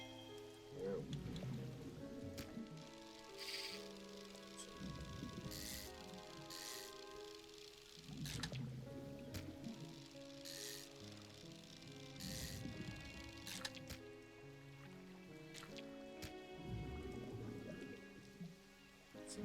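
Rain pattering down in the fishing video game Dredge, a faint steady patter under looping game music with soft recurring tones.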